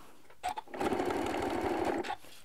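A sewing machine back stitching through three layers of fabric with batting: a couple of short stitch bursts, then a steady whirring run of rapid needle strokes for over a second, close and clear.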